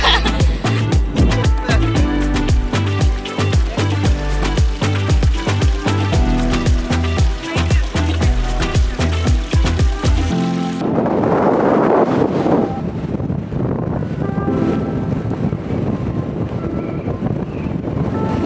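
Strong mountain wind at 50mph+ gusts buffets the microphone on the Camino de Santiago climb from Refuge Orisson to Roncesvalles, a loud continuous roar with rumbling, thumping bursts, no talk heard.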